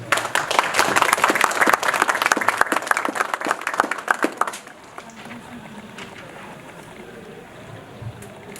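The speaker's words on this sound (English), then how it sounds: "So please, just a round of applause." An audience applauds at a Kosovo independence anniversary celebration hosted by the New York State Senate and Assembly. The dense, steady clapping lasts about half the clip, then cuts off and leaves quiet room tone with faint stirring.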